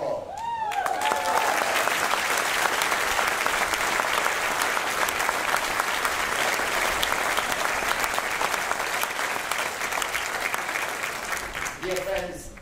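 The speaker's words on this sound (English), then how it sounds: "spare your applause" Sustained audience applause fills a museum opening ceremony for the Buffalo AKG Art Museum, a dense, even roar of many hands clapping for about twelve seconds before fading, with a voice briefly heard at the start.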